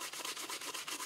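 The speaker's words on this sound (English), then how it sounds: "I'm going to take some real light-duty, wet-dry 1500 grit sandpaper and just try to buff out some of the oxidization" Oxidized chainsaw plastic is lightly sanded with 1500 grit wet-dry sandpaper, making close, quick rhythmic rubbing strokes in a short, even scratchy burst.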